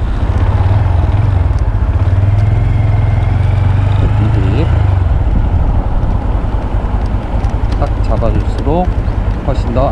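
A 2021 Honda Grom motorcycle's small engine drones steadily while riding, with a strong low hum for the first half that eases later, wind noise throughout and a voice speaking over it.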